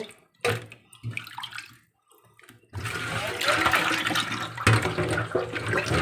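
Tap water running and splashing while fish is washed in a kitchen, a short burst, a pause, then a loud steady gush continuing to the end, with a faint voice early on.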